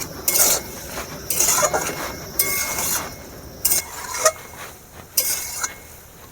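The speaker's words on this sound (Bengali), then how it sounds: "সাত মিনিট এভাবে মশলার সাথে সয়াবিনগুলো ভালো করে কষিয়ে নিতে হবে" Soybean chunks stir-fried with spices in a pan, with a utensil scraping and clanking against the metal in repeated bursts about once a second over a low background sizzle.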